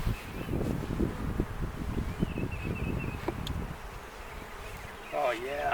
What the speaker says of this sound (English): Oh yeah, got a lot of bees, which is good.